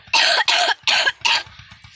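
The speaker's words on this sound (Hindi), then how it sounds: "खांसी बहुत आ रही है।" Four sharp, close coughs in quick succession, each a harsh burst with short pauses between, followed by faint quieter breathing.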